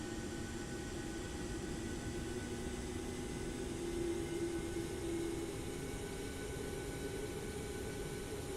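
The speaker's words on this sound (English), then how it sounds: "Let's listen to the airplane start. The startup sounds on the Max are really good." A Boeing 737 MAX 8 jet engine spooling up in a flight simulator game under a steady airplane cabin hum, with a rising whine that swells midway; faint, continuous and without voices.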